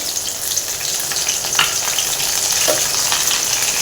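Green chilies and curry leaves frying in hot oil give a steady, close sizzle with crackling bursts and pops, without any talk.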